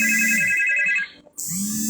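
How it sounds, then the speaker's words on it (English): A phone ringtone for an incoming call repeats loudly as a steady electronic melody, cuts out briefly near the middle, then resumes just as loud. "Oh, somebody's calling me, bro."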